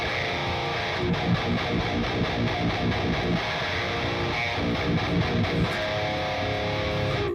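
Dense, distorted electric guitar played through a Neural Amp Modeler amp profile with the aggravator engaged and the sparkle control off, steady and loud for the full length with no talk.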